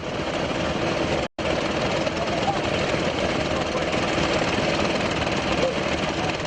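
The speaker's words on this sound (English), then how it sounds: "a Chinese-made engine, chanfan, which powers the vessel to move and pump the gravels up from under the river" A Chinese-made chanfan engine drives a floating gold dredging vessel on a river, pumping gravel up from the riverbed; its loud, steady drone runs nearly unbroken, with one brief dropout early on.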